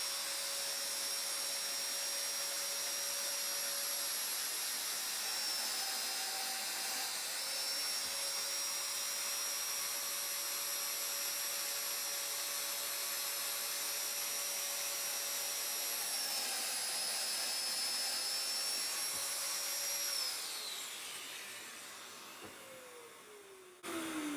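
A Festool Domino joiner runs with a high steady motor whine and airy suction-like roar while plunge-cutting slots in a shelf on an MFT table, pitch shifting slightly before winding down near the end.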